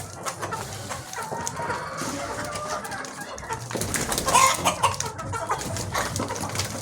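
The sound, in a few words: cross-breed rooster and chickens clucking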